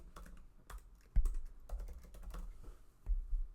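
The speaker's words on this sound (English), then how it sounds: "I'm going to type in happy birthday." Bursts of quick keystrokes on a computer keyboard, soft and close, with short pauses between clusters of clicks and a couple of heavier key thumps; no one talks.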